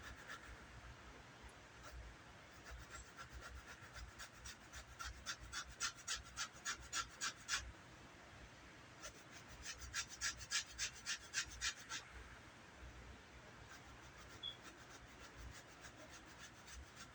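Lemon zest is rasped on a cheese grater in bursts of quick, rhythmic scraping strokes, close and fairly faint, separated by pauses of quiet room noise.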